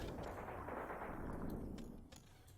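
Gunfire in the war game Graviteam Tactics, a dense, distant rumble of shooting and artillery blending into a continuous wash of noise, fairly faint overall and tapering off near the end.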